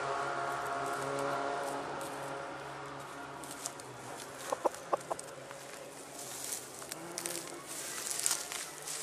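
A pet rooster clucks softly outdoors in brushy undergrowth near a parked car, a few short clucks around the middle of the clip over a steady background of rustling and distant ambient noise.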